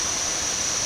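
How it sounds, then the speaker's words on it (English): Kuang Si Waterfall in the rainy season, running with a strong flow, gives a steady, dense broadband rush of falling water with no breaks or voices. "there's actually a good flow of water at the moment"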